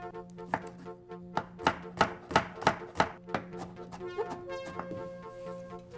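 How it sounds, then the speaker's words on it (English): A knife chops broccoli on a cutting board in a quick, even run of sharp knocks that slows and fades toward the end, over steady background music. "First, we need to chop up our vegetables. A little bit of broccoli."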